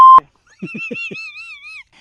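A phone call cuts off on a poor network: a short tone, then a few quick blips and a wavering electronic beep tone, brief and close.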